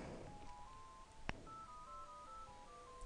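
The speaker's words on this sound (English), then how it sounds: "My house phone is ringing." A house phone sounds in the background with a soft electronic ringtone, short stepped melodic tones in a repeating pattern, quiet and somewhat distant, with one sharp click partway through.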